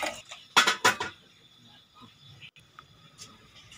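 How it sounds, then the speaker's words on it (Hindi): A metal grill set on top of a water-filled pot while making amla and green chili pickle: two sharp, close metallic clanks in quick succession, followed by faint small knocks and quiet room noise. "और इसके ऊपर ग्रिल रख दें।"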